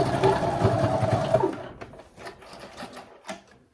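A sewing machine stitches denim jeans in a fast, close whirring run for about a second and a half, then stops, leaving faint handling clicks and rustles.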